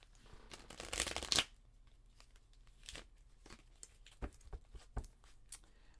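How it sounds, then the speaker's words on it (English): A deck of playing cards being shuffled at close range, with a dense riffling burst near the start followed by a few softer, scattered taps and flicks of cards in a quiet room. "Let me shuffle up."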